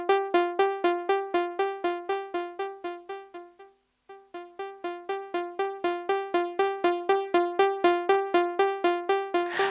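Synthesized notes programmed in FoxDot with a parameter rising linearly over eight beats, giving a siren-like, ambulance-style effect; a rapid, even train of bright tonal pulses runs alone, briefly dropping out around the middle before resuming and gradually getting louder.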